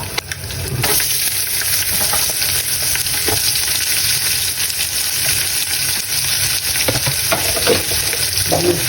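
Onion added to ghee with whole spices like cinnamon, raisins and bay leaf sizzles loudly and steadily in the pan for several seconds, with occasional scrapes of stirring and no talk.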